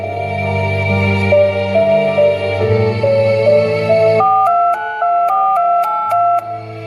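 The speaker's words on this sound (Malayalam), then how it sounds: "ആയിഷ, മകൻ ഫോൺ എടുക്കണില്ലേ?" A mobile phone ringtone plays its melody over and over, loud and near, ringing out unanswered with no one speaking.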